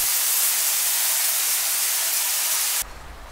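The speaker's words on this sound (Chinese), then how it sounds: "然后这个时候要倒入开水，注意一定是开水而不是冷水哦" Boiling water poured into a pan of frying crucian carp makes a loud, dense sizzling hiss that runs steadily, then drops sharply to a quieter simmer near the end, with no talk.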